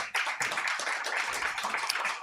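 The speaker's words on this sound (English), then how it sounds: "let's have a round of applause for all our poets, for Lorca as well" Audience applause for the poets at a Federico García Lorca tribute event with an art market and open mic, steady dense clapping from a crowd held at an even level for about two seconds, with no speech.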